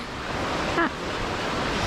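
Fast-flowing river water rushes beneath a bridge in a continuous, close, steady broadband roar, with a brief faint squeak midway and no speech.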